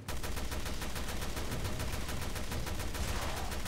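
Rapid gunfire in the video game Resident Evil: Revelations 2 rattles off in a fast, continuous burst of evenly spaced shots, steady and close, without a break for several seconds.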